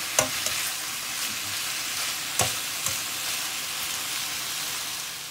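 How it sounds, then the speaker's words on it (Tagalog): Onions caramelizing with bacon in a frying pan, a steady close sizzle with a few sharp clicks of stirring, no voices. "Caramelize natin yung onion."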